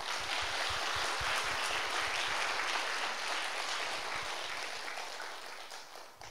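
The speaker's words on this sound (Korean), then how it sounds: "오늘 처음 오신 분들에게 다시 한번 박수 한번 주세요." A church congregation gives a sustained round of applause to first-time visitors, dense and steady clapping that slowly fades toward the end.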